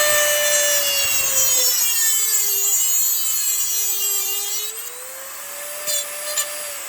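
A 6-32 screw is shortened by hand with a steady rasping, sawing stroke, close and fairly loud, carrying a sustained tonal whine that shifts in pitch before the cutting tapers off.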